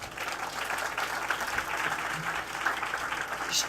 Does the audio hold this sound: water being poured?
no